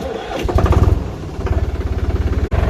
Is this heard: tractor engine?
yes